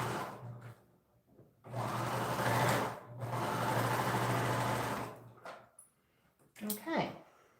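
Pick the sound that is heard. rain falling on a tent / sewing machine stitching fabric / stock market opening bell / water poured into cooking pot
sewing machine stitching fabric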